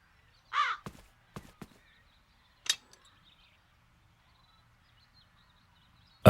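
Crows cawing in the fantasy adventure game The Dark Eye: Chains of Satinav, a few scattered harsh caws and short clicks over a quiet outdoor background, with a final loud caw at the end.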